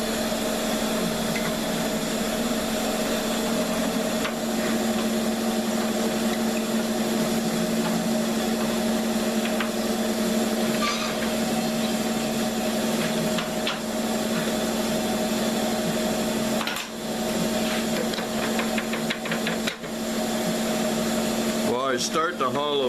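A wood lathe spins a wooden vase blank while a tool makes light shear cuts. A continuous motor hum runs throughout, with faint scraping and a few brief taps and knocks.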